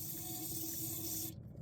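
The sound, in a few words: spraying solvent on a Zerk fitting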